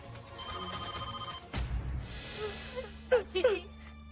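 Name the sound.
telephone ringing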